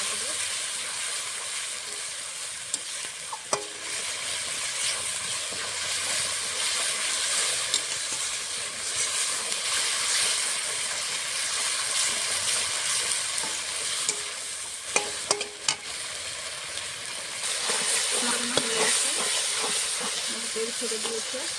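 Wet spice masala with a splash of water sizzles and hisses steadily in oil while being sautéed for Bengali egg pulao, with occasional scraping stirs and spatters throughout.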